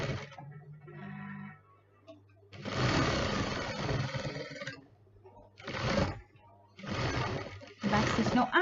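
A sewing machine stitches straight across a lined zipper pouch in loud, close whirring bursts separated by short pauses, with a brief spoken word near the start.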